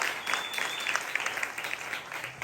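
Faint, distant applause from a church congregation during a sermon, a steady patter of many hands clapping with no voices on top.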